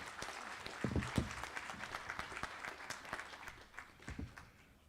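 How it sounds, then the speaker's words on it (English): Scattered applause from an audience at a mining technology groundbreaking event in Lusaka, Zambia, faint and distant, with sharp individual claps standing out over a soft, continuous patter. "Let's give another round of applause to Natalie."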